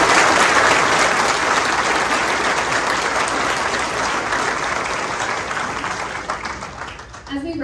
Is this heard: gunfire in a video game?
no